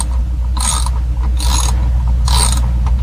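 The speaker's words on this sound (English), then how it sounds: "Then use a ratchet." A ratchet wrench on an old GM ignition gives three short bursts of rapid clicking, evenly spaced and close, over a steady low hum.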